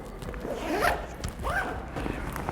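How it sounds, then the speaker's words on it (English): A zipper closes on a Besnfoto camera bag in two close, distinct pulls, each a quick rising rasp, with a little handling noise between them and no speech. "let me zip this up a little bit."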